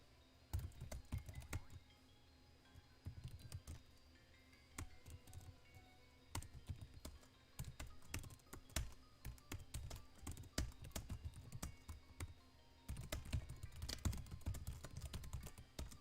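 Steady bursts of laptop keyboard typing during a livestream of Pokémon shiny hunting for Shaymin, close and crisp with irregular clattering runs of keystrokes and brief pauses, no talking.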